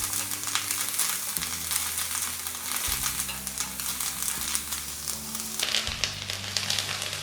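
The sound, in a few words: curry leaves sautéing lightly in a pan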